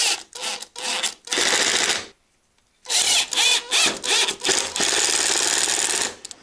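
A power driver sinks wood screws to mount a battery pack on a wooden camera gantry, loud whirring bursts in several pulses, a short pause, then a longer run of driving close by.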